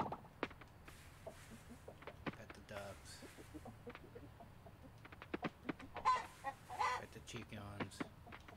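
Chickens in the farming video game Coral Island cluck in a busy string of short, repeated calls, mixed with other game sounds while a person talks over them.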